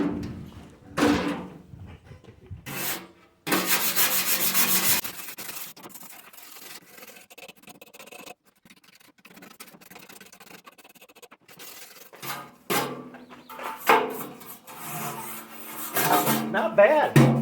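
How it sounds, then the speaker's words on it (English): A brush scrubs rust and cobwebs off an old metal school desk in uneven, rasping strokes, some loud and close, others softer, with someone speaking between bursts. "And I'll start brushing on the other side"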